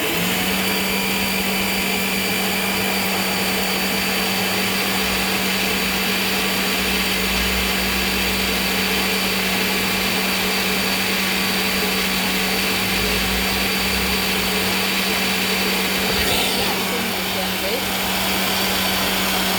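A mixer grinder runs continuously, grinding kadala chutney with added water, its loud, steady motor drone filling the whole stretch with a faint shift near the end and a voice speaking faintly beneath it.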